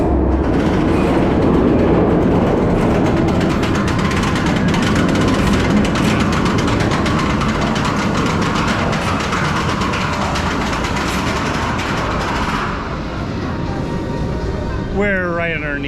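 Cobra's Curse and Montu roller coasters rumbling overhead at a theme park, a loud sustained roar and rattling clatter of trains on track heard from directly underneath, fading slightly near the end.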